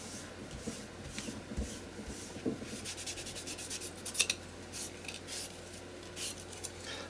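A spatula scrapes paint off a painting palette in soft, repeated rubbing and rasping strokes, fairly quiet and close, with no talking.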